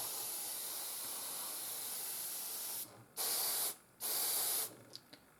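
An airbrush sprays paint onto the tracks of a Panzer IV model in a long, steady close hiss, then breaks into two short bursts and a few faint puffs as it stops.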